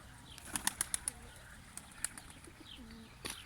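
A female Bozkırlı pigeon flaps its wings outdoors, with several quick, sharp wingbeat bursts in a row, then softer scattered flutters and coos, moderately close and without talk.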